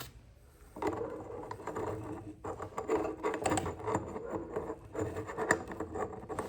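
An adapter ring is screwed onto the thread of a Sony A6100 camera, giving faint, close scratchy clicks and ratcheting taps in an uneven rhythm, with no talk over them.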